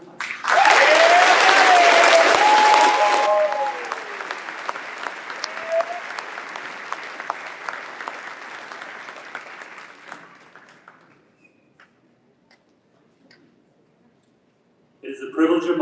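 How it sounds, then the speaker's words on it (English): A graduation ceremony audience bursts into loud applause with a few whoops, then the clapping thins and fades over about ten seconds into near silence before a voice resumes speaking at the end. "Let's give them a round of applause."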